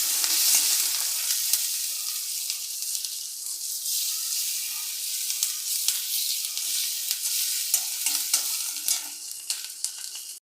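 Garlic and green chillies fry in a pan with a bright, continuous hissing sizzle, dotted with small crackles and occasional stirring scrapes throughout.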